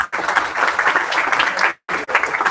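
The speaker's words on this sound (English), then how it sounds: "Can we have a big round of applause for Hiren?" An audience at an AI day event at a university gives a loud, dense round of applause, a sustained wash of many hands clapping that breaks briefly near the end and then resumes.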